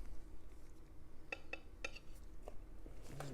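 Pigment being mixed with linseed oil into oil paint, a handful of faint, sparse clinks and scrapes of a tool against a hard surface over low room noise.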